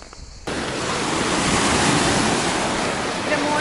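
Sea waves break on a beach on the Russian Black Sea coast near Sochi, a steady loud wash of surf and wind noise that sets in abruptly after a brief quieter moment at the start.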